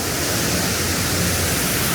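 A steady, loud roar of rushing water at a waterfall in Phantasialand theme park in Germany, a broadband wash of noise without any voices.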